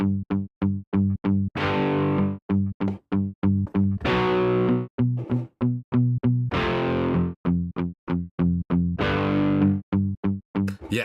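A PowerChord guitar sound plugin chugs out rapid, distorted palm-muted power-chord stabs in a driving rhythm, broken by longer ringing chords every couple of seconds, loud and upfront.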